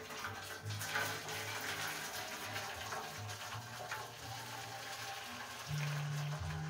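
Hot water is poured into a pan to create steam for baking a custard sponge cake, heard as a quiet, continuous splashing gush with a few faint clinks.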